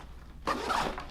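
A zipper on a Nomatic camera bag is pulled once, a short, close, quiet rasping zip with no talking over it.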